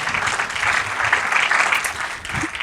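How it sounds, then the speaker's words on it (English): An audience applauds in a steady, dense burst of clapping, fairly close, for a few seconds. "Can we please give them a round of applause?"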